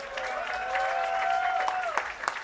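A crowd cheers and applauds steadily at a Hollywood Walk of Fame ceremony honoring Michael Douglas, a dense continuous wash of clapping and whoops that holds loud throughout, with a sustained whistle-like tone riding on top.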